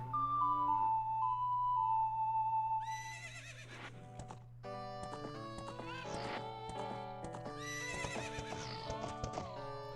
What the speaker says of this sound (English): Give me my horse.